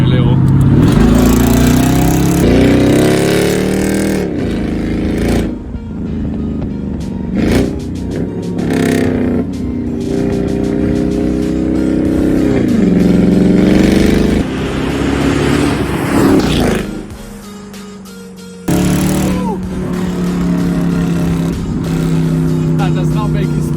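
A Mercedes-Benz E55 AMG W211 engine revs hard under acceleration, with repeated rising and falling sweeps and brief lifts between pulls, loud and close, with someone talking over it.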